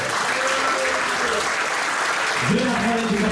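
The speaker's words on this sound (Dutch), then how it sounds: "mag ik eerst een grote applaus voor deze twee vechters" A crowd at a Fight Dome 6 kickboxing event applauds two fighters with a loud, sustained roar of clapping, while an announcer's amplified voice talks over it.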